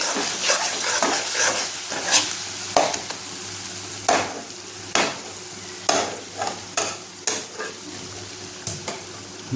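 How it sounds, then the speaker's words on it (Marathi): Bharangi leaf vegetable frying and sizzling in a pan, with a spoon stirring and scraping at an irregular rhythm in sharp, close taps over a steady hiss. "सारखं असं हलवत राहायचं म्हणून खाली लागत नाही."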